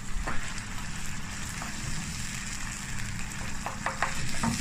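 Veg stock poured over lamb mince in a hot pan, with a steady close sizzle, soft liquid bubbling and occasional stirring scrapes, heard alone.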